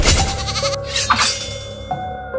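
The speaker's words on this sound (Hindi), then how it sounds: "वो बाहर गया और कुछ देर बाद बकरी की जोरदार चीख वहां सुनाई दी।" A goat screams loudly in a long, harsh, continuous bleat that wavers in pitch, close and filling the whole moment with no other sounds.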